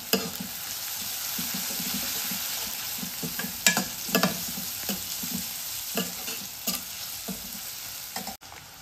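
Onion softens in hot spiced oil tempered with turmeric and chilli, giving a steady loud sizzle broken by repeated stirring scrapes of a spoon in the pan.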